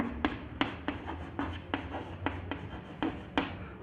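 Chalk strikes and scrapes on a board during a Class 12 chemistry lesson on solutions, about nine crisp, evenly spaced strokes close by with no speech.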